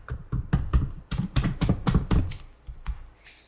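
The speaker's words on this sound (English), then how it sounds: "These cards are so friggin' hard to shuffle." A deck of cards is shuffled by hand, producing a rapid run of crisp slaps and riffling taps up close, thinning out toward the end.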